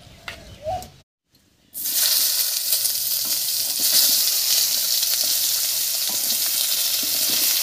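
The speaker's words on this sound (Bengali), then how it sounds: "মাছ ভাজার এই তেলের মধ্যে বেগুন আর পেঁয়াজ কলিটাও হালকা করে ভেজে নেব।" Eggplant and onion stalks dropped into hot fish-frying oil: after a brief clatter and a moment of near silence, a loud, dense sizzle bursts up and continues steadily close by.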